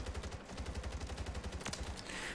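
Rapid bursts of assault rifle fire from a first-person shooter video game, a steady close stream of shots lasting a couple of seconds, with a brief sharp crack near the end.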